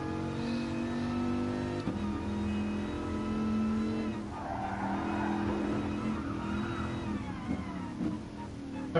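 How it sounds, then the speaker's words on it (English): A road car in GT Sport runs with a supercharger whine layered over a low-revving engine drone, the tone holding steady and then rising and shifting as the revs change, loud and close. "Supercharger whine."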